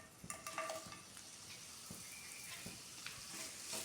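Onion added to hot oil in a pan for a cabbage tomato curry, a soft continuous sizzle with scattered clinks and scraping of stirring, fairly quiet.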